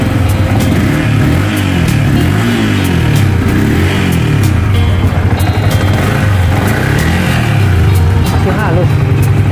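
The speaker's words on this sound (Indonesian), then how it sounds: "Masih halus. Masih halus, masih oke mesinnya." A used 150cc sport motorcycle engine runs at a loud, steady idle with light revving swells, close up and continuous, while a voice talks over it.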